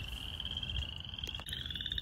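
Spring peeper frogs calling in a nighttime spring chorus, a continuous high piercing peep from many tiny frogs, close and steady over a soft low rumble.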